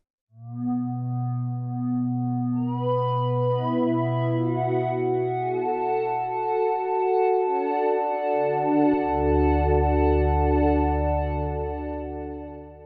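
Sustained minilogue xd synthesizer tones stack and swell through a nonlinear riser reverb into a washy, reverberant texture, with a deep bass note entering partway through; no voices.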